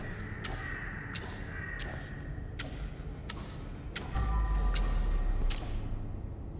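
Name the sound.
crows cawing in video game Crime Scene Cleaner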